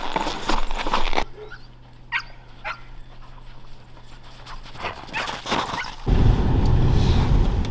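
Hunting dogs used for muskrat hunting in rural Yakutia, barking and whimpering in short bursts outdoors, with a steady low engine-like hum in the middle and a louder noisy stretch at the end.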